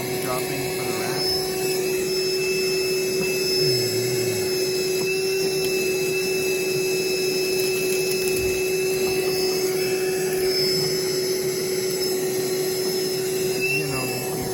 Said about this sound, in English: what he's doing is vacuuming all the rat poop,